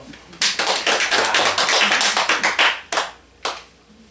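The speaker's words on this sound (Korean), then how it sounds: "박수 한번 쳐주세요." A small indoor audience at a religious education class claps in a brief burst of applause, a few seconds of close, crisp hand claps that thin out into several scattered final claps.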